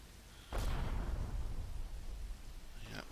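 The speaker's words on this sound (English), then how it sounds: "that's our mortars coming in" Mortar shells land in the Combat Mission video game, one heavy, muffled blast that rumbles on for a couple of seconds, followed by a fainter second impact at the end.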